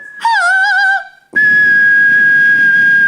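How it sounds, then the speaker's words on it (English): A person whistles two strong, clear tones: a short wavering note, a brief pause, then a long steady held pitch, loud and close with no other sound. "You're whistling."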